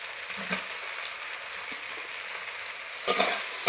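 Fried potatoes being stirred into a spice masala in hot oil in a pan; a soft, steady sizzle with a few scraping stir sounds, fairly faint and alone.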